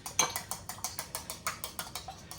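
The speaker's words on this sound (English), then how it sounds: "You beat the egg" A chopstick beats eggs in a bowl, a quick, even series of about a dozen light clinks against the dish, close and quiet with no talk.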